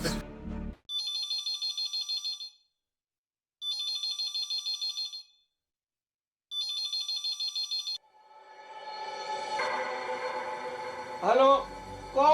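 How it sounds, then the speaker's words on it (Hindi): Telephone ringing in a Hindi household at night, three loud electronic ring bursts with silent gaps between them, then a rising swell of background music at the end, with no talk over the rings. "घंटी बज रही है।"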